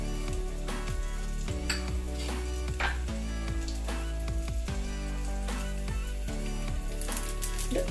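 Mustard seeds and cumin sizzle in hot oil in a pan for tempering, crackling steadily, while a metal spoon scrapes and clinks against the pan over and over.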